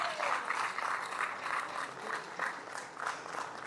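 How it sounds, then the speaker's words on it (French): Steady applause fills a hall as an audience at an anniversary gathering claps for the mayor of Poitiers, moderately distant and continuous without talk. "Merci d'applaudir pour la maire de Poitiers"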